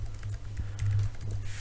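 Quick clatter of typing on a computer keyboard, a close run of light keystrokes with brief pauses between bursts, alone without talk.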